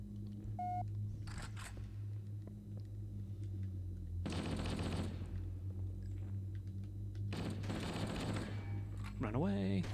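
Shotgun blasts from Halo 1 and 2 come in a few loud bursts spread across the stretch, each a broad heavy boom over a steady low game hum, with brief electronic game tones in between.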